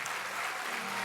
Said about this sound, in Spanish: Si ese aplauso es para Dios, déselo fuerte al único y sabio Dios.